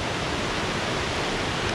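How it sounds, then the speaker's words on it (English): Waterfall in a forest ravine, a steady broadband rush of falling water with no breaks, moderately loud and heard alone. "And there's the waterfall down there."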